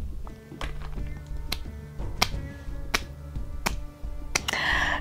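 Slow, loud hand clapping, about eight sharp, evenly spaced claps ringing out one by one over a low background of music.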